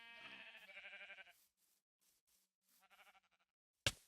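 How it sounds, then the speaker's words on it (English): Sheep in a video game bleating twice, a long wavering bleat followed by a shorter fainter one, near and clear, with a sharp click at the end. "Ah, sheep."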